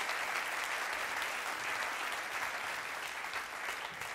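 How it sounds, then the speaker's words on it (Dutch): A crowd at a stage show celebrating a 70th birthday gives a sustained round of applause, a dense and even wash of clapping that holds steady throughout with no one speaking over it. "Geef haar een applaus."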